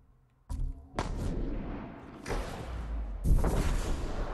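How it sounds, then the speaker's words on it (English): A black powder bomb in Ghost of Tsushima goes off as a sudden loud blast, followed by sustained booming rumble and further heavy bursts, dense and close. "Black powder bomb."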